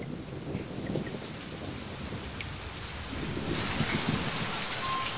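Steady rain pours down during a storm high in the Alpine mountains of Bavaria, a dense continuous hiss that swells louder toward the end, with no voices.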